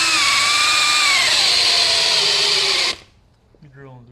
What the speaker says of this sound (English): we're drilling through the holes